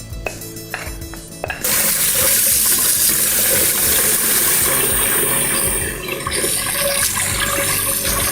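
Cold tap water runs in a steady loud stream over cooked rice in a colander in a home kitchen, starting abruptly after a brief quieter moment and continuing with a constant splashing rush.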